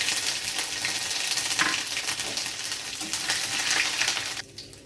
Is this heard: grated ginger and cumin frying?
yes